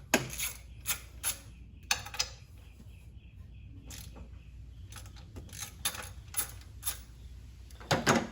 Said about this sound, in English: And go ahead and fully remove both of those bolts.